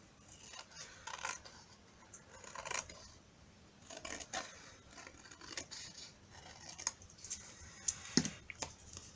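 Scissors snip along the edge of a handmade paper junk journal tag, a series of faint crisp cuts in short irregular runs, close and quiet with no talking.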